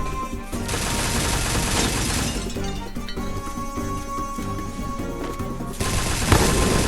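Sustained automatic fire from an M60 machine gun in a shooter video game, a dense, loud rattling burst running nearly continuously throughout, with a heavier surge near the end and no talking.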